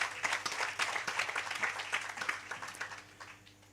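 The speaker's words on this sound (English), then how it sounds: "Let's give him a round of applause," Audience applause for a speaker at a workshop on building multiple revenue streams, a dense, even spread of clapping from a roomful of people that gradually tapers toward the end, alone without talk.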